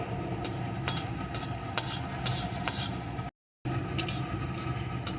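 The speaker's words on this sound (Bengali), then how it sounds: "এখন ফোড়নটাকে প্রথমে ভালো করে ভেজে নেব" Dried chili and panch phoron spices frying in hot oil in a home kitchen, a continuous close sizzle with occasional crackling pops and stirring scrapes, briefly cut to silence partway through.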